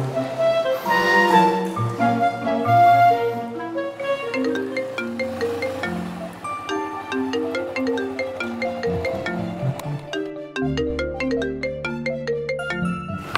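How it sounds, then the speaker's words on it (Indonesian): A melodic phone ringtone for an incoming call plays continuously for about thirteen seconds, a bright repeating tune that stays fairly loud throughout with no talking over it. "Gua telepon Boy kali ya."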